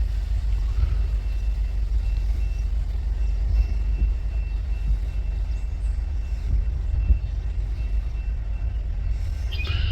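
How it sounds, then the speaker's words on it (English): A slow freight train of grain cars passes close by a backyard, a heavy, steady low rumble with faint metallic squeals and clanks on top, echoing and unbroken for the whole stretch. "This looks like a grain train."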